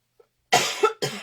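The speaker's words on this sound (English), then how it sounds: "that's enough coughing" A tiny click, then two harsh coughs close by, the first long and rough, the second shorter.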